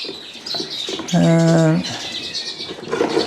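Show birds in a cage being readied for a show season chirp in short bursts, one brief bright call rising clearly in the middle while rustling and handling noises fill the rest.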